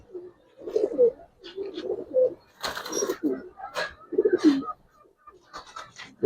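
Giribaz and colored pigeons coo in soft, repeated low phrases close by, with a few brighter flutters and calls mixed in and faint voices in the background.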